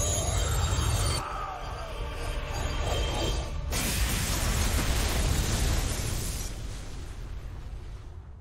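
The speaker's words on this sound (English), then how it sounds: "Where was Jimmy in that explosion?" A deep, rumbling explosion from a StarCraft II Heart of the Swarm video game cinematic, starting with a sharp burst and then rolling on as a long, crackling roar.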